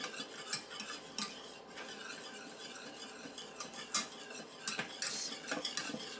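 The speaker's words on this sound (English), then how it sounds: "Keep stirring that until it gets nice and cheesy and melted." A spoon stirs Parmesan cheese sauce in a pan, with rhythmic scraping and clinking of metal against the pan over a soft bubbling sizzle, close and steady with no talk.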